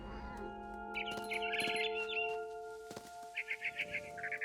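A barn swallow returning to its nest in the video game What Remains of Edith Finch gives short bright chirps in two quick bursts over a soft ambient bed with faint clicks.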